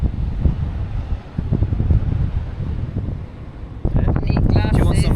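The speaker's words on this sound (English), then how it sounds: "it's too windy" Strong wind at a beach buffeting the microphone in rough, uneven gusts, loud and close, with a voice speaking over it near the end.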